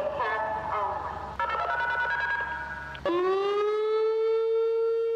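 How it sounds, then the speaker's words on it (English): An electronic tornado siren sounds its tones, shifting pitch in steps before settling into a steady, sustained wail, fairly loud and alone. "Then you have electronic sirens that are literally like electric speakers"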